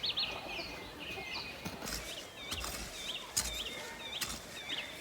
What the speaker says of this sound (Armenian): լսելով Իմ այգու սոխակների երգի ձայնը